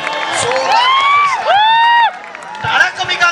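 A crowd at a Waghjai Kokewadi Chiplun tournament match cheers loudly, with rising whistled whoops and shouts carrying over a steady roar of voices that eases off toward the end.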